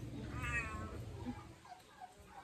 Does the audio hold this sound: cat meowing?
yes